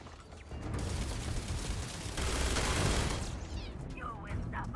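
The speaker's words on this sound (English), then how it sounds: "Open fire!" Sustained gunfire from the sci-fi video game Starfield, a dense, continuous rattle of weapon fire and mechanical clatter that swells midway and holds steady, with voices speaking over the combat.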